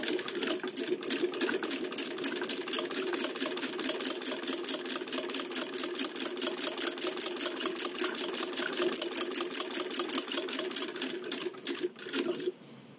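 A sewing machine runs steadily, stitching a straight seam across a Dawood Bohra rida's pardi, its rapid even needle rhythm continuing close and clear before slowing to a stop near the end.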